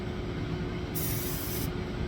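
An aerosol spray can hisses steadily for under a second as paint is sprayed onto a shoe, a sharp close burst over a low, constant background hum.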